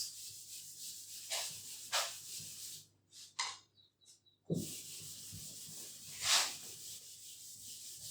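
Eraser rubbing writing off a lecture board: several dry, brushy strokes in short bursts, each lasting a second or so, with a brief pause and some light knocks midway.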